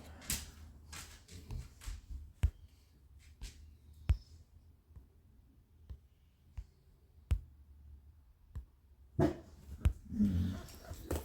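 Several dogs barking in scattered single yips and short bursts, some close and some farther off, with whimpers and panting between them and a louder flurry near the end.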